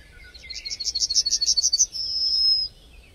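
Yellowhammer singing a rapid series of about nine bright, repeated high notes, then ending in a drawn-out buzzy final note, close and clear against a quiet background.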